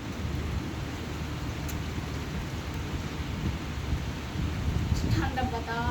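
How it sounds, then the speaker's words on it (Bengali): Thunder rumbles low and continuous beneath steady rainfall during a storm with frequent lightning, the rumble swelling toward the end; a faint voice is heard briefly. "মেঘও ডাকতেছে"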